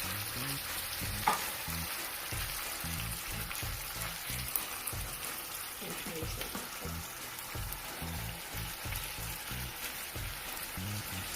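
Tinned mackerel frying in a pot with Scotch bonnet peppers, a steady close sizzle and crackle with occasional stirring scrapes, no talking.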